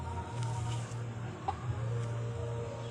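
A gamefowl from a white kelso breeding line, about three months old, gives soft, low clucks at close range against a steady background hum.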